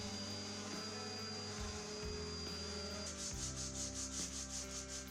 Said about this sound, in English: you now see me sanding the board with 120 grit